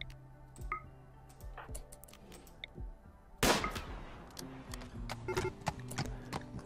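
Gunfire in the video game RimWorld: one sharp burst of shots stands out amid scattered light clicks and ticks from the game, all fairly quiet.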